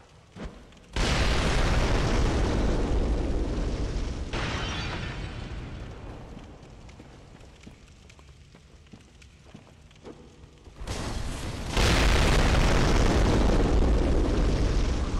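Loud explosions in the video game Bloodborne: a heavy blast bursts in, rumbles and fades over several seconds, then a second booming explosion erupts near the end, both very loud and close.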